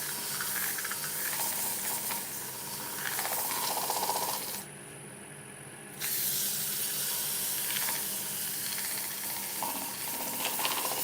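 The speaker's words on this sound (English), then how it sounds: "just apply some colour with the airbrush to the top rim" An airbrush sprays colour onto the top rim of a fabricated part, a steady broadband hiss running for several seconds, cutting out briefly, then resuming just as loud.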